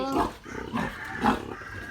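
A pregnant sow close to farrowing grunts several times close by, low and throaty, in short bursts with brief pauses between them.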